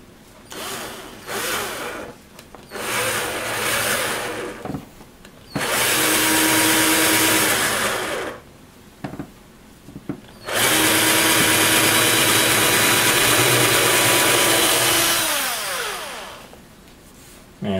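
A power drill bores into the wood of a MAME arcade cabinet front in repeated bursts, short runs at first and then two long, loud, steady whines that wind down at the end, close up.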